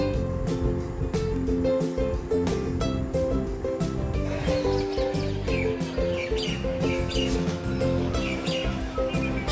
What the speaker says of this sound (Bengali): সকাল সকাল পাখিদের কোলাহল